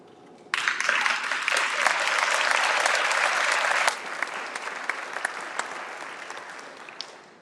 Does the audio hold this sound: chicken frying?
no